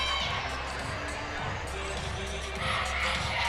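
A crowd at a cheerleading championship keeps up a loud, continuous wash of cheering and shouting that fills the whole stretch without pause.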